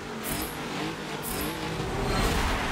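A racing car engine in the Forza video game drones steadily and close, a continuous loud rumble and whine with slight surges, no talking heard.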